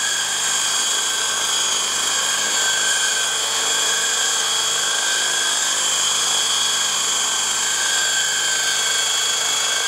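The rotor blades of a Hirobo EC120 electric RC helicopter in a steady hover give a continuous, even whirring whine with a constant tone, loud and unbroken throughout.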